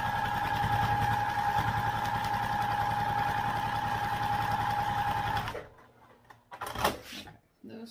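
A sewing machine stitches across backpack straps in a steady, loud mechanical whir for about five and a half seconds, then stops, leaving a few quieter handling clicks and thumps.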